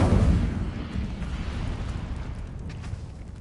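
An Incendio fire spell erupts with a heavy, booming rush in the video game Hogwarts Legacy, loudest at the start and then settling into a sustained roaring crackle that fades slowly.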